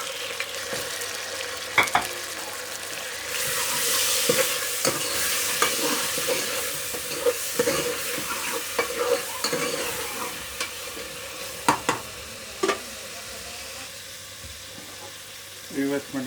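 Tomatoes fry and get stirred in a pan for an egg and potato curry, a steady close sizzle broken by clattering spoon scrapes and knocks throughout.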